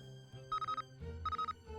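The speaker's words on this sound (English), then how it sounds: "Okay, ringtone, we gotta listen to some of these." Phone ringtone from the video game Nancy Drew: The Captive Curse, two short bursts of a trilling electronic ring over a soft synth tune, quiet and alone.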